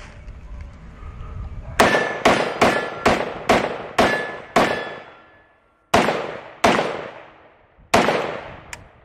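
Galil rifle fired outdoors in a steady string of about nine sharp, loud reports, each ringing briefly before the next, with a short pause before the last few shots.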